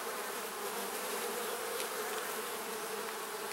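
Honeybees swarm around an open, well-developed beehive, a dense continuous buzzing drone that stays steady and fairly close throughout, with no voices.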